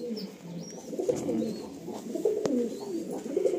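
A three-month-old pigeon with clipped wings gives a steady, low, rolling coo that continues close by for a few seconds, with faint chirps in the background.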